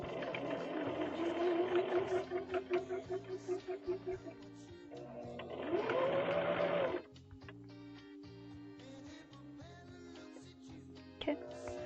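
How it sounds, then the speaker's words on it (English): A sewing machine stitches fabric in two bursts of rapid rhythmic whirring, then falls quiet apart from soft clicks and handling noise, with a brief low voice. "I'll have to like feel under the foot to make sure I'm sewing it right"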